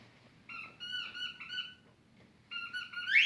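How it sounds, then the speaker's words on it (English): A pet named Salvador playing with a squeaky toy, giving two bursts of shrill, squawking squeaks of about a second each, separated by a short pause, loud and close with no talk over them. "That's Salvador playing with his squeaky toy."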